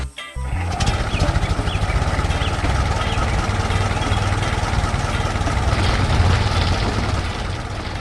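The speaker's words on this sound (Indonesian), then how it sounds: "Traktor ungu dan biru sedang menggarap tanah, menggali dan menggembur." Purple and blue tractors till soil in a field, a steady loud engine drone running throughout with a low rumble and some clatter.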